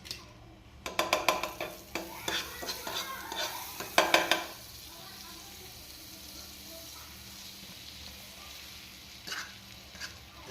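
A spoon scrapes and clinks against a frying pan as food is stirred, with a soft sizzle underneath; several sharp stirring bursts come first, then quieter frying, with people talking nearby.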